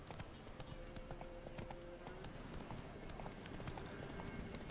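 Hooves of Roach, Geralt's horse in The Witcher 3, clop in a quick, steady galloping rhythm against a faint, dense ambient bed, with short whinny-like tones mixed in.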